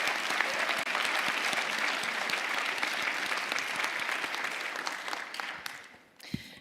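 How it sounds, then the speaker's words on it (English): A community award presentation audience applauds, a dense and even crowd clapping that continues steadily, then thins and fades near the end with a couple of louder closing claps. "Another round of applause for Walter and for Yuri"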